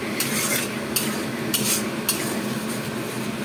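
Masala for mutton curry is stirred and sautéed in a pan with a soft steady sizzle, while a spatula scrapes and taps against the metal in several short, repeated strokes.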